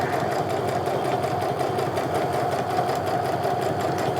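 A sewing machine runs continuously along the edges of a bag's fabric, giving a steady, close humming drone with a rapid stitching pulse throughout.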